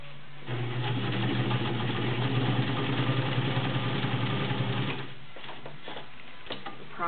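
Vintage White model 1665 heavy-duty 1.3 amp sewing machine stitching through a couple of layers of leather, a steady, smooth mechanical whir running at a constant rate for several seconds before cutting off.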